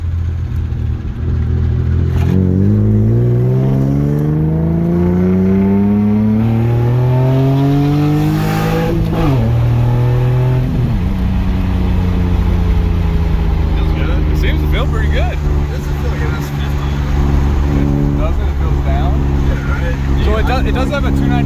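A BMW E30 with a swapped S52 engine revs hard up through the range, its pitch climbing, dropping sharply and climbing again, loud and close from inside the car, with people talking over it.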